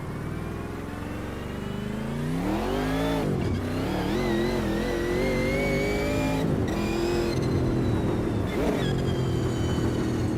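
A race car engine in Automobilista 2 revs and climbs through gears, loud and close, with sharp shifts and a steady high whine, no talking.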